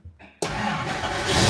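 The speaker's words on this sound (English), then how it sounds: "Oh, that thing cranks now." A 1953 Plymouth engine cranks on a new reduction gear starter, a brief click and whir followed by a sudden loud, rapid churning roar close by.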